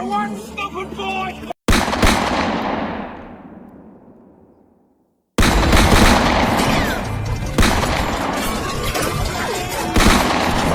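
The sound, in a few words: gunfire in a film scene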